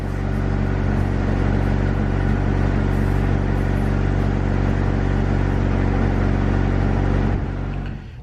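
A car engine revs steadily at high RPM for about seven seconds while the throttle body cable is adjusted, holding a loud, even drone before dropping off at the end.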